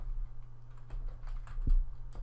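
Quiet computer keyboard typing, a handful of soft key clicks at an uneven pace, heard close up over a low hum.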